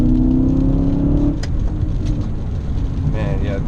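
A BMW E39 M5 in the rain: the engine note rises and then fades against the steady hiss of wet road noise, heard from inside the cabin, with a voice briefly present.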